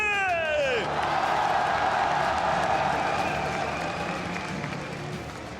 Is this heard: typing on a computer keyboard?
no